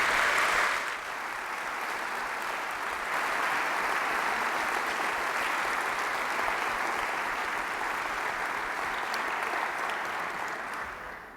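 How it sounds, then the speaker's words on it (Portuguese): Audience at the launch session for the book "Portugal Católico" breaks into sustained applause, a broad, even roar of many hands clapping that lasts around ten seconds before tapering off. "uma grande salva de palmas para este Portugal que consegue trabalhar desta maneira"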